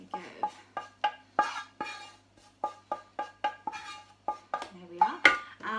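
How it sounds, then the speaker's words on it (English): Onions and cumin being scraped straight from a pan into a food processor while making beetroot vegan falafel: a run of close, sharp scraping and clattering strokes of a utensil against the pan, coming in quick irregular bursts. "I'm going to put these onions and the cumin into the food processor, just straight from the pan."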